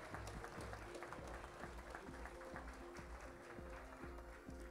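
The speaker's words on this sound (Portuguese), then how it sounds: "O retorno aos lugares com uma salva de palmas," An audience at a formal legislative medal ceremony applauds, with a dense, steady wash of clapping heard faintly from a distance.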